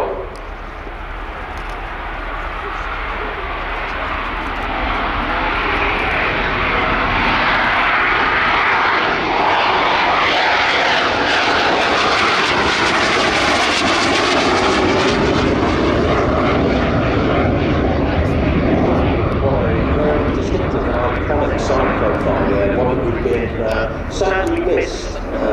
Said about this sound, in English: EAV-8B Plus Matador 2 version of this incredible VSOL vertical and short takeoff and landing combat jet